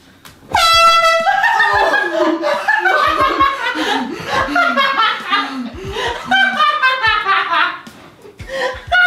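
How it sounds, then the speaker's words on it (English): A very loud air horn blasts at close range in an office prank, a sustained harsh honk of about seven seconds, followed by laughter and chuckling that break in as it cuts off. "this air horn is so loud"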